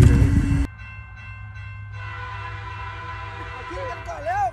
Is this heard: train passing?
yes